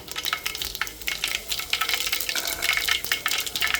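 Dense, continuous crackling and sizzling of mustard seeds, cumin and onion tempering in hot oil, close by, with faint stirring clatter now and then.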